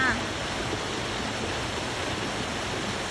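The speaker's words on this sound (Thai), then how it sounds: "นี่ค่ะน้ำตกข้างบ้านนะเพื่อนเด้อ" Steady, dense rush of falling water, a constant broadband roar with no breaks, close and fairly loud throughout.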